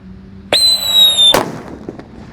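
A Happy Power 3 firecracker buried in the ground fizzes with a shrill squealing whistle, then bursts in a single loud, close blast that leaves a short muffled rumble.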